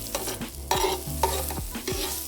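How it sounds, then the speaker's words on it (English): Potatoes sautéing in hot oil in a pan for vegan chorizo tacos, with a steady sizzle broken by several scraping stirs close to the microphone and no talking. "So what we're gonna do is we're gonna saute these potatoes."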